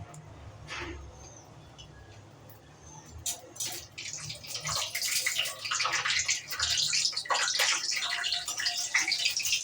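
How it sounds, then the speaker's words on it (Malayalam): Quiet at first, then a rising, busy crackle and bubbling hiss as a papad made with coriander leaves drops into hot oil and fries vigorously, close by. "ഇതാ വറുക്കാൻ പോകുന്നത്, മല്ലിയില ഇട്ടത്"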